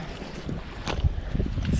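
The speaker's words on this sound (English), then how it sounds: "It's so windy and cold." Cold wind gusts across a microphone beside a wild river, rumbling in uneven buffets that swell louder toward the end, with no talking.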